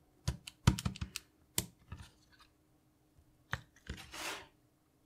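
Sharp plastic key clicks from a Casio FX-850P pocket computer, in small irregular clusters separated by pauses, close and fairly quiet.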